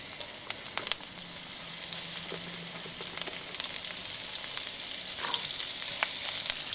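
Thinly sliced Spanish onions fry in avocado oil, giving a steady, quiet sizzle with a few faint pops and stirring clicks, no voices.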